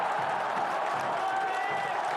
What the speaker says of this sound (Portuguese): Felipe e a torcida aplaudem o gol.